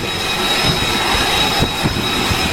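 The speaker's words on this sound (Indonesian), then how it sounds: "Rekaman yang dirilis oleh Senkom pada hari Minggu menunjukkan sebuah pesawat bergerak ke posisi dek penerbangan sebelum lepas landas." Jet fighter aircraft taxiing across the flight deck of the USS Boxer, a steady loud broadband engine roar with a high whine held throughout, close and continuous without talk.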